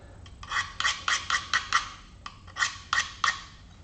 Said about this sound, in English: you can touch up the edge using a diamond card. I use the coarse side, about 150 grit